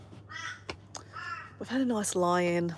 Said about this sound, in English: Can you hear the crows in the background?